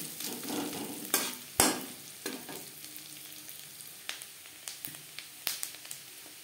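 Grated coconut fries in a pan for a vegetarian chana dal with cauliflower, giving a steady close sizzle punctuated by sharp, irregular scrapes and taps of a spatula stirring against the metal, with no talk over it.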